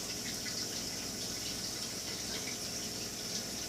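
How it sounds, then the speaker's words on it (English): Warm tap water runs steadily over a raw ribeye steak held under the faucet in a kitchen sink, a continuous close splashing rush with no talk. "So we like to go ahead and wash it first under good warm water."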